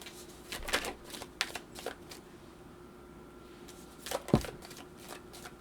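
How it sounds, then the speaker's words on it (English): Tarot cards are shuffled and pulled, giving soft riffling and sharp slaps of card on card in scattered bursts, close but quiet against a low background hum. "I'm going to pull more cards"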